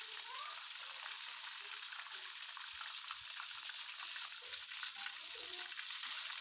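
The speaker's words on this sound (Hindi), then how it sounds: "2 मिनट तक फिर इसे फ्राई करेंगे" Eggplant slices frying in oil in a pan, a steady bright sizzle and crackle throughout with occasional soft bumps, no talking.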